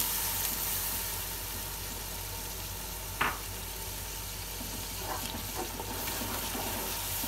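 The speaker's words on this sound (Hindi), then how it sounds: "अब हम इसमें ग्रीन चिली का पेस्ट डाल देंगे" Green chili paste hits garlic and ginger frying in oil for a Pakistani-style curry, giving a steady soft sizzle with a sharp clink of a spoon and a few faint stirring scrapes, quiet and without voices.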